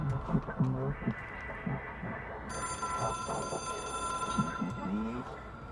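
A telephone ringing in the video game Control, a bright electronic trill that starts partway through and repeats steadily, heard under a person talking throughout.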